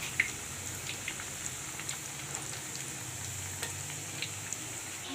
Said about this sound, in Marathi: मीडियम फ्लेमवर क्रिस्पी तळून घ्यायच्या आहे अगदी गोल्डन ब्राऊन